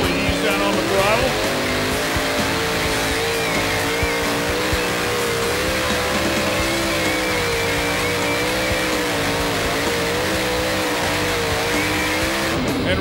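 Super modified pulling tractor with a 3,000-horsepower engine under throttle, a loud, steady, high-revving roar that holds strong and continuous for the whole pull.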